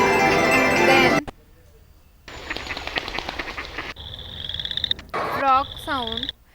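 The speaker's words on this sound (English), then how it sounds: "frog sound" A frog croaking effect from a Lumion sound library, several repeated rising croaks in a row, heard after a sequence of other short library sound samples.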